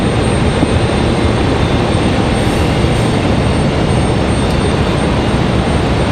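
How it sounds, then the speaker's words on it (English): A Southwest Airlines jet departs Raleigh-Durham International Airport in stormy weather, a loud, steady, broadband engine roar that holds without a break. "so that's Southwest departure"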